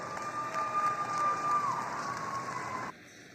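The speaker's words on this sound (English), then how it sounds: "Let's give Greg and his company a nice round of applause." Spectators at the Carroll County 4-H & FFA Fair market steer show, in the Shipley Arena, give a broad, steady round of applause with some cheering that cuts off abruptly near the end, leaving quiet room tone.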